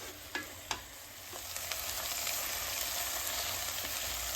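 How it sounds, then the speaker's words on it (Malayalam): Bottle gourd halwa with almonds, cashews and pistachios is stirred in a pan over low sizzling, with a couple of sharp clinks of the spoon early on, then steady soft frying. "ഇനി നന്നായിട്ട് മിക്സ് ആക്കുക."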